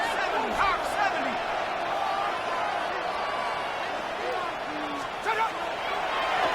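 Steady roar of a stadium crowd in an American football video game, a broad continuous wash of noise with occasional swells, under a commentator's voice.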